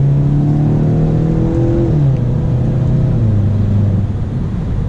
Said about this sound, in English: You really have to rev the engine out to get all this power